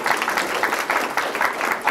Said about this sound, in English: So let's give 79 a great round of applause.